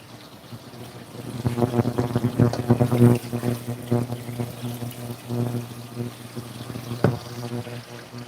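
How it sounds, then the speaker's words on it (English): Water pours into a cooking pan close up, a splashing, gurgling stream that swells and fades over several seconds with a sharper splash near the end and no speech. "Add some more water."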